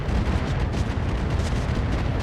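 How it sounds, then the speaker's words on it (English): An ammo explosion tears through an Atlas mech in the video game Roguetech, a loud sustained rumbling blast with dense low-end roar filling the whole moment, no voices over it. "Ammo explosion"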